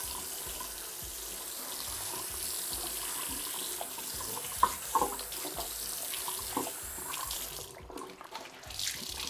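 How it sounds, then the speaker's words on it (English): A cloth being rinsed and wrung out under running water at a bathroom sink: a steady tap stream with splashes and a few wet squeezes, close, with no talk. "Wring out your cloth for the next part of getting this puddle."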